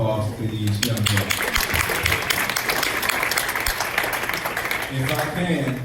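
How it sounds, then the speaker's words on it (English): A crowd at a school board meeting applauds young men, a dense wash of clapping that runs throughout, with a voice heard at the start and again at the end. "I'll give another round of applause to these young men."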